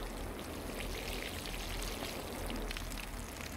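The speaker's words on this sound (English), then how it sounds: "I'm just gonna water my plants." Water pours steadily onto plants in the horror video game Clap Clap, a soft, continuous splashing trickle that runs evenly throughout at low volume with no talk.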